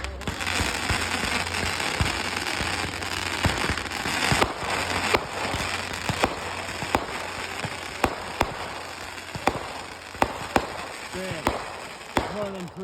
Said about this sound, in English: Rapid fire. It's like mortar. Well, they're all mortars.